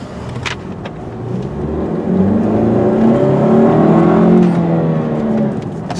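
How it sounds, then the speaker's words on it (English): A 2005 Saturn Vue FWD with a 5-speed manual gearbox accelerates from first to third gear. Its engine drone climbs steadily in pitch and loudness, heard from inside the car. "This went first to third because I don't want to shift too much while I'm driving."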